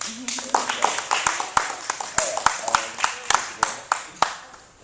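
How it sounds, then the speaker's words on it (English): A group claps hands in a slow, even rhythm at a library community event, sharp claps repeating about every quarter second. "Clap, clap, clap, clap, clap."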